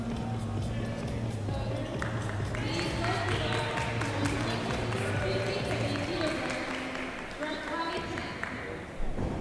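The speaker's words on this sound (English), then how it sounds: "Warm applause though" An audience applauds a powerlifter leaving the stage at the 2016 IPC Powerlifting World Cup in Dubai, a steady patter of clapping under a commentator's talk.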